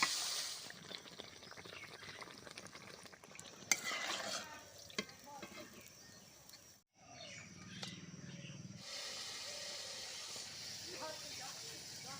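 Andosha pitha, made with date palm jaggery, fries in a pan with a soft, steady sizzle and occasional stirring clinks, all fairly faint, with a brief pause midway.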